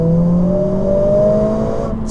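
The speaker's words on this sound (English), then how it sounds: "I hope the microphones are picking up how good this car sounds." Mercedes-AMG A 45 S hatchback accelerating hard, a steady rising engine drone heard from inside the cabin, loud and continuous with no talk.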